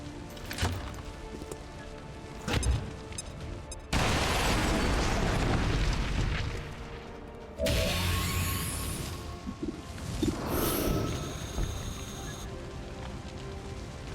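A frag grenade goes off in the video game XCOM 2, a loud sudden blast followed by a long rumbling burst of debris and crackle, with game sound effects before and after.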